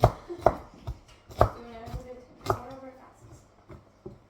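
Knife chopping carrots on a board during bulk meal prep, a loose rhythm of crisp thuds close by, with someone speaking over the cutting.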